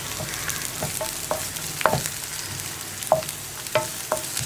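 Curry leaves fry with onions in a pan for a tomato chutney, giving a steady sizzle marked by sharp spattering crackles and pops near the mic.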